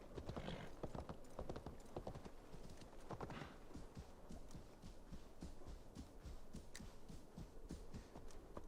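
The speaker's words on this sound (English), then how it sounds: "Let's just get a horse." Horse hooves gallop in the video game Assassin's Creed Valhalla on PS5, a quick, steady clip-clop rhythm that runs throughout at low level with no talk over it.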